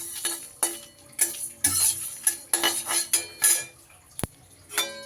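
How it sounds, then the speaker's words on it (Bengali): Dried chillies, coriander, cumin and fennel being dry-roasted in a pan give off a series of sharp metallic scrapes and clinks of a spatula stirring against the pan, repeated in irregular bursts with brief quiet gaps. "এইবার এটাকে শুকনো খোলায় কয়েক সেকেন্ড একটু ভাজা করে নেব।"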